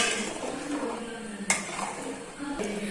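A spatula stirs milk reducing in a pan for milk cake, giving soft scraping with a sharp metallic clink midway and another lighter knock near the end, close and fairly quiet.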